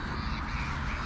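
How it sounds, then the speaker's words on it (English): Gulls call outdoors on a clear autumn day, a short burst of harsh cries heard continuously through steady background noise. "listen to those gulls. Aren't they something?"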